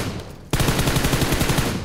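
Sustained M249 machine gun fire in the battle royale game PUBG Mobile, a loud rapid burst of evenly spaced shots starting abruptly after a quieter moment and running without pause.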